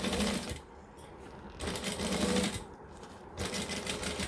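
A sewing machine stitches in short runs, a fast close mechanical whir that stops and restarts as the needle is lowered and the fabric pivoted, with no talk.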